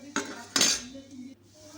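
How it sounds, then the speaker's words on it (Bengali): Chicken going into a cooking pot of biryani, with fried onions already in it: two short, close clattering bursts of metal utensils against the pot, then quiet kitchen hum. "এইবার চিকেনটা আমি দিয়ে দেব।"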